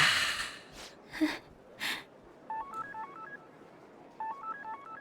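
Cartoon phone beeping, two short runs of rapid electronic dial-tone beeps stepping up and down in pitch, following a few breathy gasps and sniffs; no talking.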